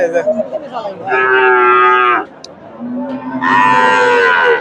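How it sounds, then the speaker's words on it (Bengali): A cow at a busy rural cattle market moos loudly and nearby, two long drawn-out calls with a brief pause between them, over low background crowd noise. "এখানে একটা গাভী বাচ্চা দেখতেছি"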